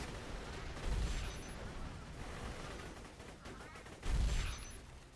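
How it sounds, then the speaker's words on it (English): Rapid-firing turrets in a modded video game, two dense bursts of gunfire around the one- and four-second marks over a continuous background of game noise and chatter. "The fact that those turrets shoot so insanely fast is hilarious"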